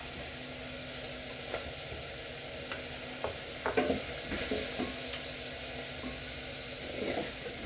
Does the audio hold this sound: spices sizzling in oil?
yes